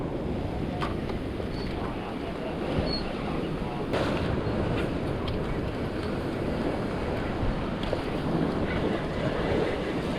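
Ocean waves wash around a small boat at sea, with a constant roar of water and heavy wind buffeting the microphone throughout, and a few faint sharp knocks over the top.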